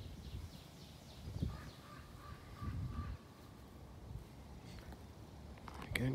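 Birds calling outdoors, with a few scattered crow-like caws and squawks rising over a steady wash of ambient background noise, moderately distant and uneven in rhythm.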